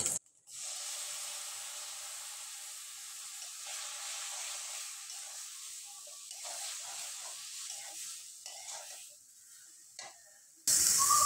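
Tamarind water poured into fish roe frying in a pan sets off a sudden, loud, steady hiss of steam that lasts several seconds, then fades and cuts off.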